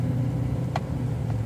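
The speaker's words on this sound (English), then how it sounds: "diesel engines have a different sound. It's a little louder. Sounds like a school bus." A 2015 Chevy Silverado 2500 diesel pickup on the road gives a steady, loud low engine rumble from inside the cab, with a faint short click partway through.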